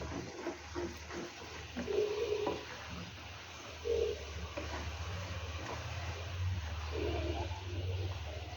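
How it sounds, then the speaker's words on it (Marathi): Grated raw mango simmers in jaggery syrup for gulamba, giving a soft, steady bubbling sizzle with occasional stirring scrapes and faint tonal clinks, low and close. "आता या पाकामध्ये आपण हा किस शिजवून घेणार आहोत."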